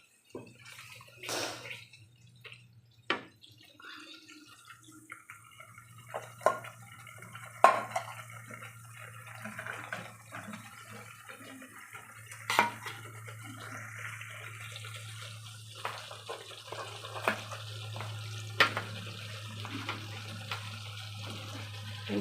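A bowl being washed with water in a kitchen, with soft running and splashing water broken by scattered light clinks and taps, close and low in level over a steady background hum.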